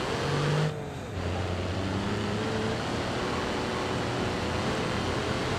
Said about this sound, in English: let's take this car for a ride